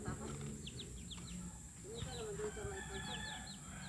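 Hens and chicks cluck and peep in a farmyard, short repeated high chirps and low clucks at moderate distance, with people talking quietly underneath.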